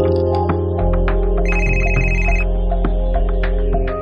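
A phone rings on an outgoing call, a steady electronic ringtone with repeating tones over a constant low hum, fairly loud and alone with no talking.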